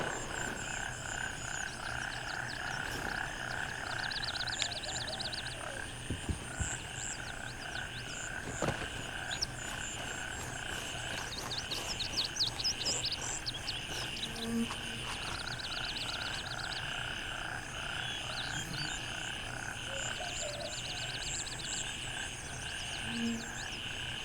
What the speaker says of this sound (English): I love all the ambient noises, the frogs, the birds chirping, all this stuff that's going on as you're traversing the map